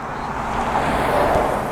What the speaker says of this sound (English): There are cars going past.